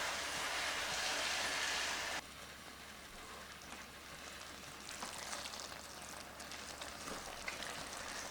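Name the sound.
caramelized onions cooking in pan for seeni sambol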